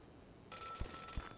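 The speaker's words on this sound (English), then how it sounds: "That's why the phone is ringing." A telephone rings in the video game Celeste, a bright electronic bell trill starting abruptly and continuing steadily, with a couple of low thumps beneath it.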